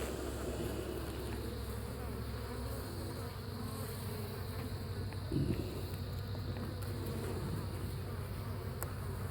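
Honeybees buzz steadily inside a hive, a dense, continuous hum filling the whole stretch with a brief low thump near the middle and no voices.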